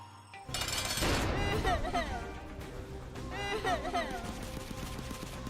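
Weapons blasting final bosses in a modded video game with giant bombs, a dense chaotic barrage of rapid gunfire and explosions that stays loud throughout, mixed with whooshing game effects.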